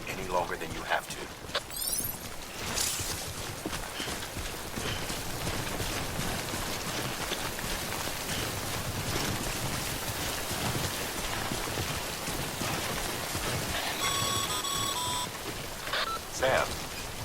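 Timefall rain in the video game Death Stranding, a steady hiss of falling rain under game dialogue, with electronic beeps and tones near the end.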